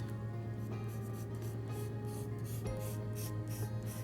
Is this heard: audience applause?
no